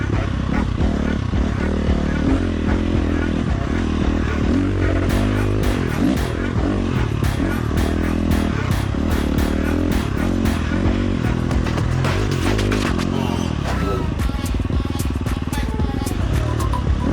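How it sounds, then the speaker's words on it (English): A 2011 motocross bike is ridden hard during a Tokyo Mods Vortex ECU test, its loud engine droning and revving continuously up close, with rattles and clatter from the ride. "it's a 2011 motocross bike, not an enduro bike."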